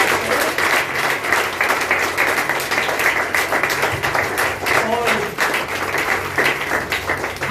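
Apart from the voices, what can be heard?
congregation clapping in church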